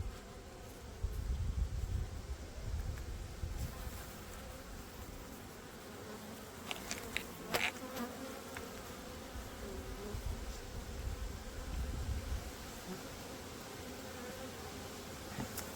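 Honeybees swarm around a hive at an apiary during autumn work, giving a dense continuous buzz that fills the whole clip, with a few closer bees passing by and no talk.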